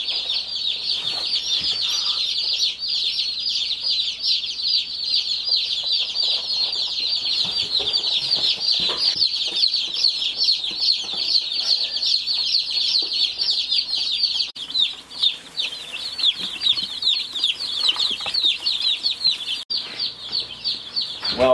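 A flock of young meat chickens, a heritage breed crossed with Cornish cross, peeping and clucking continuously at close range as a dense, steady chorus of high chirps with no talking.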